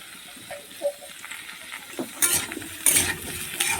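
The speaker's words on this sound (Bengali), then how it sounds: "আবার পেঁয়াজের সঙ্গে আলু আর পেঁপেটা ভালো করে কষানো যায়" Diced potato and green papaya stir-frying with onion in a pan, a soft sizzle under intermittent spatula scrapes and clatters that grow louder toward the end, with no speech.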